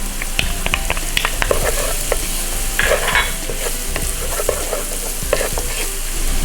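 Green onion and minced garlic frying in a pan, a loud close sizzle with rapid clattering stirs and scrapes repeating throughout, no one talking.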